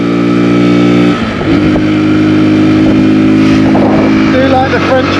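A 125cc motorbike engine drones steadily on a quiet French country road, its pitch stepping down and settling as the rider shifts and cruises; the tone is loud and close throughout, with no talking.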